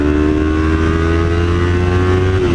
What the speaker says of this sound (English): let's accelerate here on the freeway